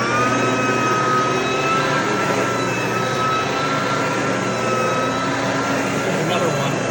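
A Sebo Softcase CE12 vacuum cleaner runs indoors with a steady, loud motor whine and airflow roar, constant and close throughout with no breaks.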